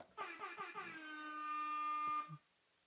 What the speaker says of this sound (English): Here's some air horn.